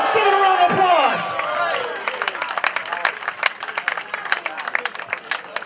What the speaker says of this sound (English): Folks, give it a round of applause.